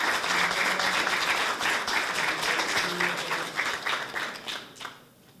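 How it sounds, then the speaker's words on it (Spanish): Audience applause at a youth-for-peace event in Colombia, honoring a senator, a dense sustained wash of clapping from a crowd that tapers off at the end. "el segundo aplauso de la tarde de hoy es para el senador Juan Carlos Restrepo"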